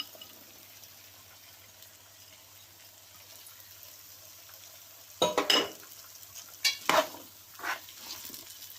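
Thin-sliced potatoes drop into a frying pan and get stirred: a quiet low simmer first, then several loud bursts of crackling sizzle and scraping, up close.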